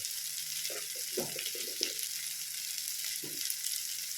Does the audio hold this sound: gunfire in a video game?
no